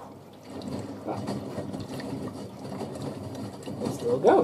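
Miele W5000WPS washing machine filling with water on its first rinse, a low whirring and sloshing hum under people talking nearby.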